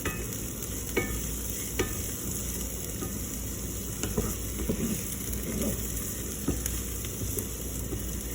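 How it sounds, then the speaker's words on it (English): Onions and garlic frying in a pan for vegan gravy, giving a steady close sizzle with occasional light clicks of stirring, and no talking. "so I added my garlic and I'm just letting everything cook down"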